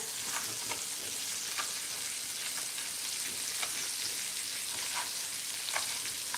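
Chicken pieces frying in a pan, a steady close sizzle with scattered crackles and pops, no voices.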